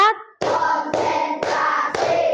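A classroom of students claps in unison, four sharp, evenly spaced group claps following a short spoken cue, each clap ringing briefly before the next.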